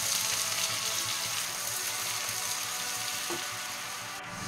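Chopped medium-sized onion frying in oil with bay leaves, a loud steady sizzling hiss with a brief knock near the end.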